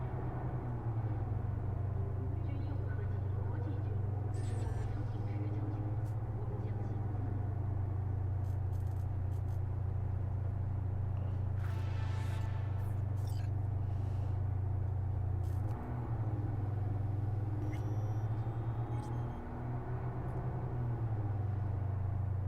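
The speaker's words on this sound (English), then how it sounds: "Oh, look at the traffic down there." Highway traffic in the video game Cyberpunk 2077 makes a steady, heavy low rumble of passing cars throughout, with occasional faint higher engine tones and brief clicks rising over the constant drone.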